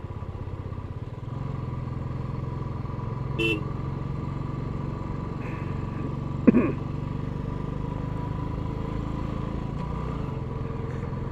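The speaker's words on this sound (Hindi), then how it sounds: "गाड़ी वाला हमें क्रॉस कर रहा है" An Ertiga car overtaking a motorcycle on a cold mountain road toward Khardung La, heard over the bike's steady engine drone, with two short horn toots a few seconds apart as it passes.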